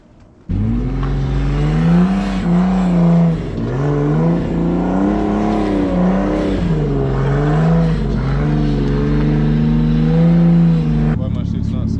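An LS-swapped Nissan Z32 revs hard and holds a steady, loud, wavering engine note while drifting around a circle, the pitch rising and falling for about ten seconds before it cuts off.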